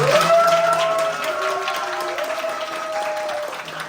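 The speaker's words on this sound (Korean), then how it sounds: "우리 찬양을 인도해 주신 우리 독수리 제자훈련 사랑팀 감사의 박수 한번 하겠습니다." A church congregation at a summer Bible school revival gives applause of thanks to the worship team, steady clapping with scattered cheers and lingering musical tones beneath.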